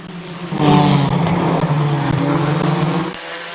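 Race cars roar around the oval at Midvale Speedway, a loud, sustained engine drone swelling as the field passes close, with no voices over it.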